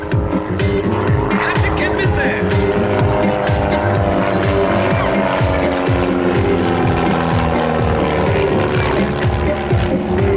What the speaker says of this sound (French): Et le bruit du bout des pales d'hélice qui est en subsonique ou en transsonique